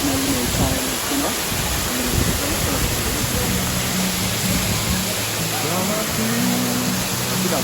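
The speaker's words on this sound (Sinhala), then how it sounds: "ඒ ලස්සන කොළපතන ඇල්ල මේ ස්ථානයේ තියෙනවා" Kolapathana waterfall roars as a loud, unbroken wash of falling water, with a tonal hum and low rumble running underneath throughout.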